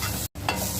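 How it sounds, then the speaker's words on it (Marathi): Onion frying in a pan for a Mandeli fish curry, a steady close sizzle with stirring, briefly cut by a short gap. "आणि आता कांदा भाजते"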